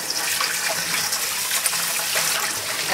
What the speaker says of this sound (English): And rinse and drain a couple of times.